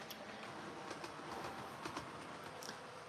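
A model train runs along a layout, giving a steady, continuous rolling rumble with light rhythmic clicks of wheels over track joints, moderately loud and unbroken throughout.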